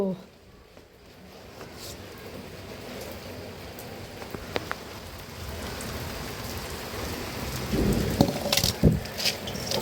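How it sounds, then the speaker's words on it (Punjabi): Heavy slanting rain pours down outdoors in a steady broadband hiss that swells with gusts and grows louder toward the end, with a few sharp splashes and voices faintly in the background. "ਮੀਂਹ ਵੀ ਬੜਾ ਤੇਜ਼ ਆਈ ਜਾਂਦਾ"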